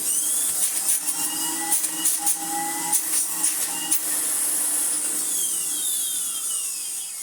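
An Electrolux Dolphin Silver Electronic 1000 Z2225 vacuum cleaner runs with a steady motor whine and a high electric hum, and a few rattling, ticking sounds come from the unit before it settles into an even drone.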